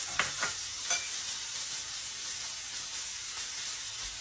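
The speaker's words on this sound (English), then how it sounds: "Next, we're gonna add all the tomatoes." Tomatoes hit hot oil with fenugreek and turmeric in a pan for an egg curry, giving a steady close sizzle with a few sharp stirring clicks at the start.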